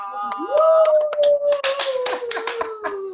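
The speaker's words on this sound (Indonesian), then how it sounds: "Tepuk tangannya dulu dong." Studio audience applause on a talk show: scattered, loud hand claps close by, accompanied by a rising then sustained whoop or cheer from one voice.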